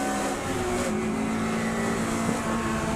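Mod Sports race cars running at Knockhill Racing Circuit under green flag, a steady loud engine drone with one held engine note throughout and no passing surge.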